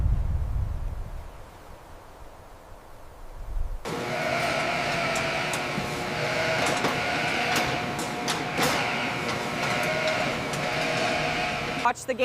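Dorper sheep bleating on a large sheep farm, a dense chorus of overlapping calls that starts abruptly after a few seconds of quiet low rumble and continues steadily to the end.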